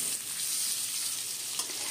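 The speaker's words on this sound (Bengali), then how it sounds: "আলুগুলোকেও আমরা হালকা ব্রাউন কালার করে ভেজে নেব।" Marinated potatoes frying in hot oil with cumin seeds in a pan, a close, steady hiss and sizzle with a faint stir or clink near the end.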